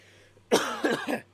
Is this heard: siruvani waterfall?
no